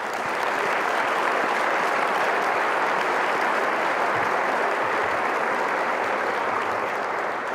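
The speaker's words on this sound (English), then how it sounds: "I'd also like to take a moment for us to all offer a round of applause to all the parents" Steady, full applause from an audience at a scholarship anniversary luncheon, a dense wash of many hands clapping continuously at even loudness with no talking over it.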